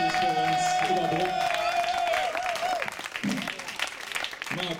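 An audience at the Sounds of Climate event in Aachen in 2019 applauds a DJ with dense, sustained clapping. A held musical tone fades out early on, and a voice speaks briefly over the clapping near the end.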